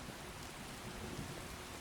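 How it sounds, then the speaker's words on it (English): Steady rain weather in the video game Skyrim, near Whiterun: an even, continuous hiss of falling rain with faint low rumbling underneath, no voices. "you are affected by the conditions, in this case weather, rain."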